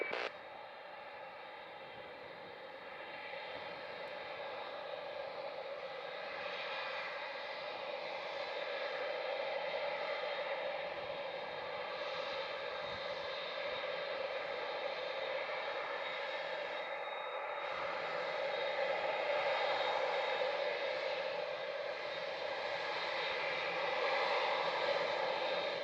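Canada 983 Heavy jet airliner taking off from runway 07 at Montego Bay, Jamaica, a steady distant engine roar that holds level and swells slightly as it goes.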